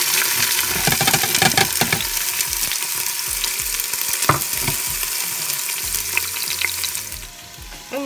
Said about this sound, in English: I'm going to start frying up the peppers and onions and